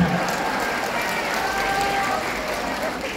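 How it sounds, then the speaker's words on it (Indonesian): An audience claps steadily and densely throughout at a product presentation, with the applause fairly loud and sustained, no single voice standing out. "ini yang paling kencang tepukannya"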